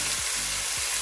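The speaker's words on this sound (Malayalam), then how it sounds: "ഇനി ഇതിലോട്ട് ഞാൻ 1 5 പച്ചമുളക് അതും കൂടെ സ്ലൈസ് ചെയ്ത് ഇട്ട് കൊടുക്കുന്നു" Sliced green chillies frying in a hot pan, a continuous close hiss and sizzle with a couple of soft low bumps as they are moved.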